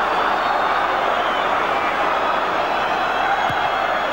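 Dense, steady roar of a large football crowd at a 1992 Chelsea FA Cup fifth-round match, continuous and distant-sounding with no clear peaks, with one brief sharp accent near the end.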